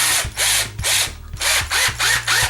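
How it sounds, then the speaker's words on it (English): A power drill fitted with a smaller bit bores into a workpiece in loud, close bursts, about five whirring pulses with short pauses and clicks between them, no voices. "now I'm going to take a smaller drill bit because I don't want a big hole in the top"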